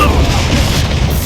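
Confringo blasting spell going off in Hogwarts Legacy, a loud, dense, low booming explosion that rumbles continuously through the short moment with no pause.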